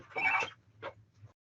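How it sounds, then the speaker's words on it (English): A phone rings with an incoming call, giving a couple of short electronic chirps close by, the first longer and louder, followed by silence. "I got a phone call here."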